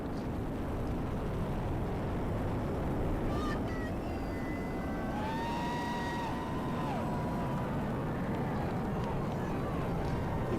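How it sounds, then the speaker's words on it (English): A Falcon Heavy rocket with all 27 engines firing during the GOES-U launch ascent: a steady, dense, unbroken roar that holds its loudness for the whole stretch, with faint tonal streaks drifting above it. "All 27 engines powerfully lifting GOES-U on its trajectory and ascent into space."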